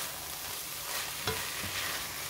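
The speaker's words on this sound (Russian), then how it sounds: "Перемешиваем." Stuffed eggplant filling of minced meat, vegetables and herbs is stirred in a frying pan, a soft continuous sizzle with a single scrape of the utensil, fairly quiet and without voices.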